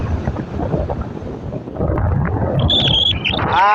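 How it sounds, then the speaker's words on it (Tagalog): Strong southwest monsoon wind roars steadily against the microphone in a dense, rumbling blast that builds over time, with a faint whistling tone near the end. "talagang matindi pa rin talaga ang lakas ng habagat"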